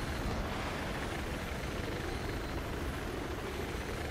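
Attack helicopter in the Battlefield 4 video game, a steady, dense rotor and turbine roar held at constant loudness throughout, with no talk.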